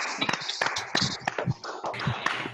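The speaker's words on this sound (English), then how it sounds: "I really want to hear the clap now." Scattered, uneven hand claps from webinar participants on an online call, a few sharp taps close to the microphone, with voices talking over them.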